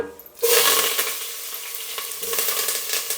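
Onions dropped into hot oil for a drumstick sambar, giving a sudden loud sizzle that settles into a steady close frying crackle, with no talk.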